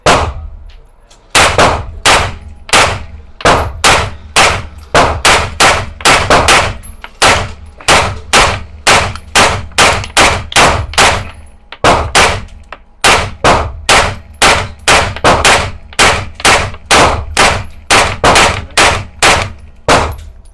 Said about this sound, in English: 35 rounds in the magazine. So off we go. Gonna go for the center of the target just for fun.